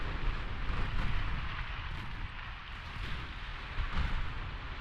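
A torpedo strikes a warship in the naval combat game Ultimate Admiral Dreadnoughts, a dense, roaring rumble of blast and churning water that stays loud throughout with a few heavier thuds, no voices.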